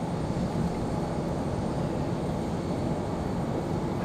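A plane landing at Raleigh-Durham airport makes a steady, broad engine roar with its gear down, holding at even loudness throughout and heard from a distance without talking.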